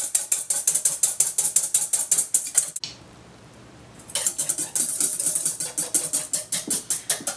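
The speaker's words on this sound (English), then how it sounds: "You're going to beat these egg whites until there's soft peaks" A hand mixer whips egg whites in a bowl toward soft peaks for a semifreddo, its beaters rattling in a fast steady rhythm that stops for about a second before resuming, close and clear.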